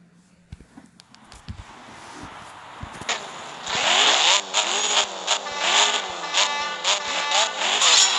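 Race car engine in the CSR 2 racing video game, running on nitrous, revs hard through repeated rising gear-change sweeps after a quiet start with a few faint clicks. The engine is loud and close, with no talk over it.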